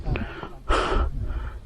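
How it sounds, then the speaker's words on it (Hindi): Heavy panting from a hiker climbing an uphill mountain trail on the Khaliya Top trek near Munsiyari: a couple of short breaths followed by one loud, rough gasping exhale, close to the microphone. "चलते चलते हाँफ गए भाई साहब"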